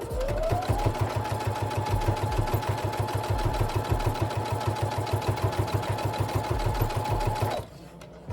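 A sewing machine runs fast and steady along the edge of a pencil case, a close rapid mechanical chatter with even pulses, winding up briefly at the start and stopping abruptly near the end.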